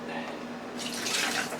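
Water pours off cooked sweet potatoes in a kitchen, a steady splashing rush that swells toward the end of the short moment.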